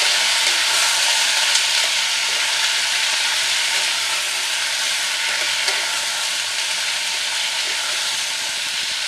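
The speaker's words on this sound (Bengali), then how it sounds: "একটু হাই ফ্লেমে আমি লাউটাকে একটু ভেজে নেব।" Bottle gourd fries on high flame with hing, a loud, dense, constant sizzle with a faint clink or two from stirring.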